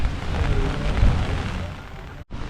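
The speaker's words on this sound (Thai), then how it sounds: "เพราะฝนนั้นตกหนักอีกแล้วครับ" Heavy rain pouring down in Kaohsiung, Taiwan, a dense steady hiss with low rumbling, loud and close, cutting out abruptly near the end.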